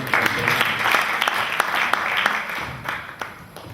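An audience applauds a university speaker taking the stage at a speaking competition final, a full round of clapping with distinct sharp claps, close and steady, thinning slightly toward the end.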